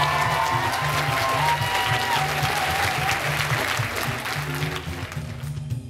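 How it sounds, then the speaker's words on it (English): School assembly audience applauding a Grey Cup champion BC Lions player, a sustained wash of clapping with a low rhythmic musical beat underneath. "Give him a big round of applause"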